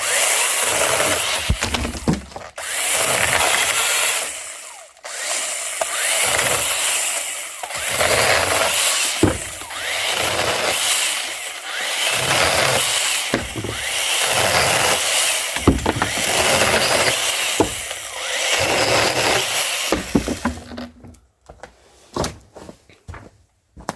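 A chainsaw cuts a branch of a tall tree in a yard, running in repeated bursts with short pauses and knocks, loud and close, then falls silent near the end.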